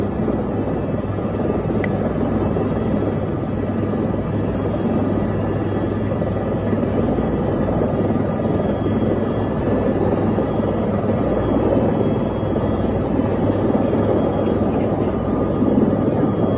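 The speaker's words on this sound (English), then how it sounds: "this is chopper footage, which I think was from the Diesel Brothers" Helicopter flying over a desert wash area with vehicle tracks, a loud, steady rotor and engine drone that stays constant throughout, heard from the aircraft itself with no talking.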